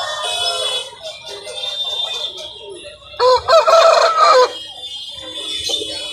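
A country chicken rooster crows loudly at a Sunday market, one full crow rising out of a background of hen clucks and other fowl calls.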